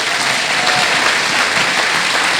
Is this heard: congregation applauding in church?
yes